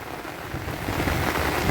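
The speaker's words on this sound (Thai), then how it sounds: "บรรยากาศฝนตก" Afternoon rain falls steadily outside a house, a dense, even hiss of drops that builds slightly in loudness, with no voices.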